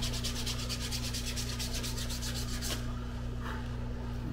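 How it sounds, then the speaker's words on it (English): Leather for a simple card wallet being sanded with 320 grit sandpaper: quick rhythmic rubbing strokes, close and steady over a constant low hum, stopping partway with a single faint scrape after. "And then I'm going to sand it again. This is 320 grit sandpaper."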